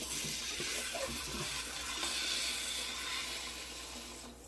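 Steady running water pours from a tap into a small pot, a continuous hissing splash that stays close and even throughout.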